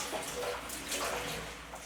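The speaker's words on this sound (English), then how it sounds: "Residents pour out the corns they saved into a big bamboo corn bank." Dried corn kernels pour in a steady rushing stream into a large bamboo corn bank, a continuous granular hiss lasting throughout at moderate level.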